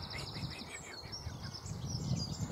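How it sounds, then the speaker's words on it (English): Willow warbler song with quick, high trilling phrases drifts through the air over a low rumble of background noise, fairly faint and continuous, at Roydon Common, Norfolk, UK. "Sound of a willow warbler."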